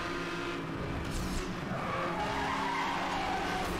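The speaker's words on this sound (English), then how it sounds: "This Porsche's got a little bit of a drift going." A Porsche drifts with sustained tire squeal and skidding in Need for Speed Hot Pursuit Remastered, engine roar underneath, steady and close for a few seconds.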